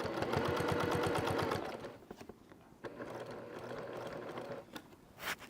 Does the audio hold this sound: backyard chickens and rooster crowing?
no